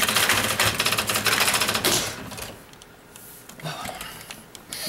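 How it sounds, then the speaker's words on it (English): A typewriter clatters in fast, dense bursts of keystrokes for about two seconds, then quieter scattered sounds follow with some voices in the background. "Start typing stuff."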